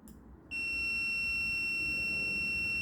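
Motorcycle horn sounding through its switch when pressed, a steady, piercing electronic tone that starts abruptly after a short quiet moment and holds loud and unbroken to the end.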